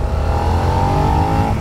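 A 2021 Suzuki SV650 motorcycle accelerates with a loud, close rasp from the front airbox, holding a steady rising engine drone throughout.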